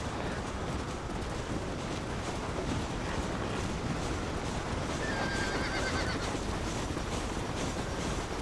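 A horse in the video game Red Dead Redemption neighs and gallops near a train in a Mexico mission, with rhythmic clip-clop hoofbeats under a loud whinny that stands out midway through a busy, rumbling game soundscape.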